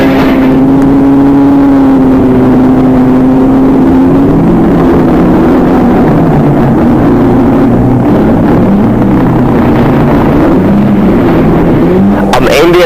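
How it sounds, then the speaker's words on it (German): Stock car engines roar at a 1980 race, loud and sustained with a droning tone that shifts in pitch as the cars pass and accelerate, a voice faintly audible beneath. "wie man Stocker fährt"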